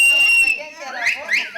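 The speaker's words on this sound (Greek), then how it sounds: "Ακούμε και σφυρίγματα." Sharp whistling from people at a traditional circle dance during an autumn village night gathering in Asvestades: a steady high tone, then two quick rising whistles, loud and near, with voices in the background.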